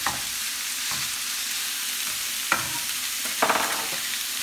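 Minced meat frying in a pan with browned onion for a curried pasta, a steady close sizzle running throughout, with a few sharper crackles and scrapes of stirring near the middle and end.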